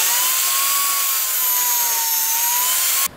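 A power saw runs steadily through wood, cutting the sides of a barn-style birdhouse with a loud, sustained high whine that holds for about three seconds before cutting off abruptly.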